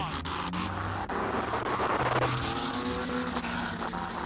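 Lola race car in a classic-car racing video game, its engine revving continuously through the S-bends with a brief lift and shifts, loud and close throughout.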